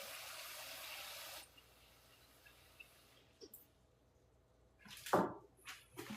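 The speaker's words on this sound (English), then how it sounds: "I go ahead and run water in the container." Running tap water pours steadily for over a second, then stops, followed by a few scattered clinks and splashes.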